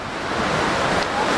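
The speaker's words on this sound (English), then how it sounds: "So these are constructive waves at Burnham-on-Sea" Constructive waves breaking on the shore at Burnham-on-Sea, Somerset, a steady close hiss of surf with some wind buffeting the microphone, continuous and alone.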